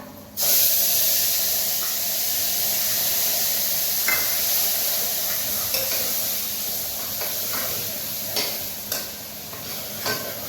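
Steady hissing sizzle of spices tempering in hot oil for a Gujarati mung bean curry, with occasional stirring clinks and scrapes throughout.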